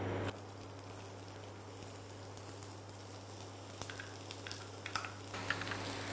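A cup of finely chopped onions fries in plenty of oil for samosa stuffing, making a steady close sizzle with occasional light stirring clicks over a constant low hum, without talking.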